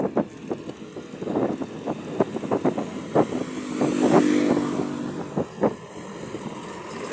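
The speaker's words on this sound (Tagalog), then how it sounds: "Masyadong malakas ang hangin." Strong wind buffets the microphone in rumbling, uneven gusts, with scattered clicks and rattles throughout.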